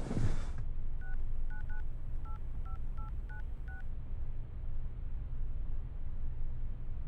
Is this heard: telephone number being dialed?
yes